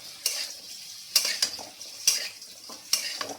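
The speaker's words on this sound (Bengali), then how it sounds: "এদিকে মাছ ভাজা হচ্ছে" Fish frying in a pan for a Bengali rui fish curry, with a steady close sizzle broken by several sharp clattering scrapes of a utensil against the pan.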